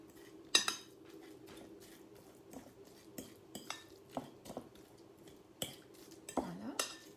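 A mango guacamole with red onion being stirred in a bowl, with a spoon scraping and clinking against the dish in sporadic soft taps and scrapes, close and quiet, with no talking.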